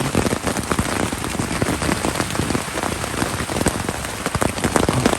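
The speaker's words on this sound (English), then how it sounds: "the rain is still continuing" Heavy rain pours steadily during a winter storm, a dense, loud, continuous hiss of drops drumming on a nearby surface with no pauses or voices.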